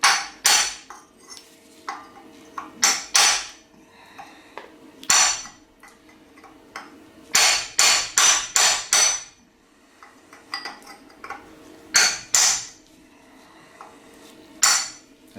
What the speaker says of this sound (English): I'm going to take a chisel and a hammer, and I'm going to strike the outside surface of this pretty darn hard